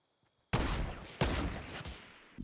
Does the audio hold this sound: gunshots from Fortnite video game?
yes